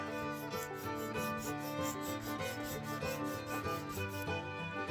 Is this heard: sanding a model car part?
yes